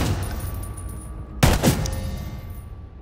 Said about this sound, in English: Warm up by shooting that dummy